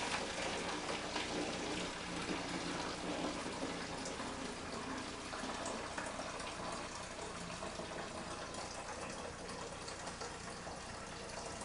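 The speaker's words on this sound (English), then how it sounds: "pour this back into the pot. Over the sink" Photographic developer poured from a tray back into a pot over a sink, a continuous close splashing gush of liquid that runs steadily for the whole stretch.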